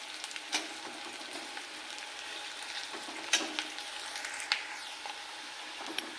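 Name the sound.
onion and curry leaves frying in pan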